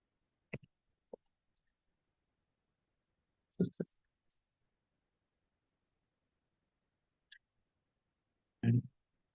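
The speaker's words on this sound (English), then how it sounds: "With the location, just click on create." Sparse computer mouse clicks while creating a location entry in Oracle Fusion software, a few isolated sharp clicks spread apart with quiet gaps, one louder thump near the end.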